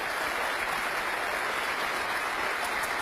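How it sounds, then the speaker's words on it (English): Loud, dense applause fills a snooker ceremony hall as a crowd applauds runner-up Judd Trump after the 2012 Premier League final, a continuous, even roar of clapping with no gaps. "Let's have a round of applause for our runner-up, Judd Trump, everyone."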